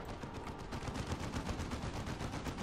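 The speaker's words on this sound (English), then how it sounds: "The sentry turrets can cause some damage in a minute." Sentry turrets in Dawn of War 2 keep up a dense, unbroken stream of rapid automatic fire, loud and close, with no pauses.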